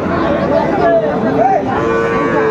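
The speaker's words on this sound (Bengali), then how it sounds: "এই যে শাহিওয়ালের ষাঁড় বাচ্চা," A Sahiwal bull calf moos at a busy cattle market, two or three drawn-out calls close by over steady crowd chatter.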